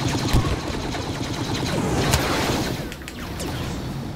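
Blaster gunfire in the Star Wars Battlefront video game, a dense sustained volley of rapid shots with a few sharper bursts, loud and continuous without talk.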